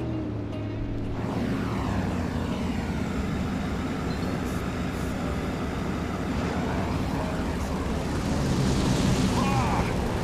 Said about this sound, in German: Hier werde ich von Flugzeugen angegriffen.